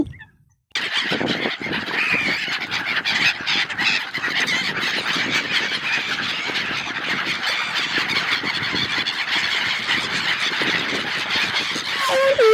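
Geese squealing and honking loudly and continuously at a waterside temple, with a dense, busy chorus of calls going on throughout.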